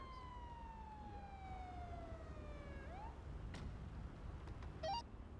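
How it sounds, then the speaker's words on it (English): A police car siren in a video game sweeps downward in a long wail, then cuts off with a quick upward chirp. A few short electronic blips follow over a steady low rumble, with no talking. "turn off my goddamn sirens."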